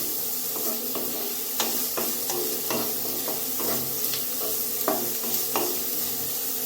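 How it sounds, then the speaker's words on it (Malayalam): Beetroot frying in a pan for upma, stirred with steady scraping strokes over a continuous close sizzle, the spoon strikes landing irregularly about once a second. "ബീറ്റ്റൂട്ട് ഒന്ന് വാടുന്നത് നമുക്ക് ഇളക്കി കൊടുക്കാം."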